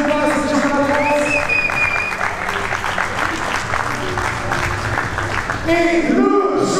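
An audience applauds a runner-up at the first French MMA championships, giving steady, sustained clapping throughout while a voice speaks over it.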